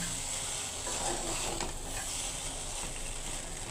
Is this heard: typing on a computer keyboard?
no